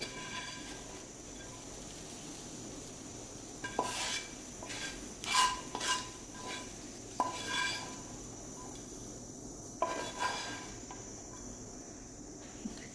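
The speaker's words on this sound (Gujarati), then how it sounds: "હવે આ આપણે વઘાર એમાં નાખી દઈશું." Hot oil tempering with green chili and red chili is poured into yogurt for vaghar dahi, followed by scattered spoon clinks and stirring scrapes against a metal bowl in a quiet kitchen.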